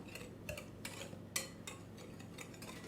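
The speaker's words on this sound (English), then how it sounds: "we're going to take that and we're going to just mix up the dry ingredients there" A utensil stirs self-rising flour and white sugar together in a bowl, giving soft irregular scrapes and light clinks against the sides, faint and close, with no talking.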